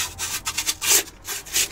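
Protective film is peeled from an Anycubic Photon resin 3D printer during unboxing, giving close, loud rasping and rubbing strips over a couple of seconds with no talk.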